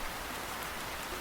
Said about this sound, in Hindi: ये बारिश कितना ज़्यादा खूबसूरत है ना?